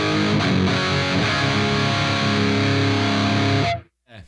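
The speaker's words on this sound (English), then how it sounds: "so we got distortion, volume, and filter, like I guess like the Rat, Proco Rat kind of vibe." Electric guitar through a Rat-style distortion in the Neural DSP Archetype Gojira plugin, a loud, thick sustained chord ringing for several seconds before being cut off, followed by a short faint pick noise.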